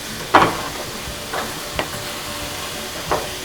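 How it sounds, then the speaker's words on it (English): Garlic and ginger paste cooking in a pan over medium-high heat for a smoky Tanzanian samosa filling, a steady low sizzle broken by a few sharp scrapes of stirring, close and fairly quiet. "add about 2 teaspoons of garlic paste and 2 teaspoons of ginger paste. You want to cook all of this together on about medium-high heat."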